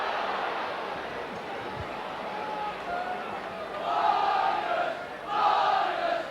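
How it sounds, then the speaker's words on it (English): Rugby league crowd at a Leeds versus Castleford match in 1990, a steady distant roar of spectators that swells into louder cheering bursts twice toward the end. "And the Leeds crowd starting to get behind Leeds now"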